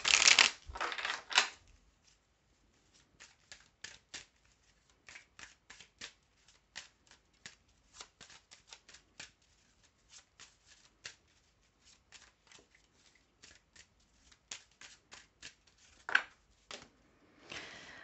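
Oracle cards are shuffled by hand in quick bursts of soft, papery riffles and slaps, louder at the start and near the end, close and alone in a quiet room.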